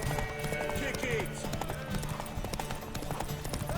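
Horse hooves clip-clopping at a gallop in The Witcher 3 on PS5, a steady rhythmic thudding under game music and effects, with voices talking over it.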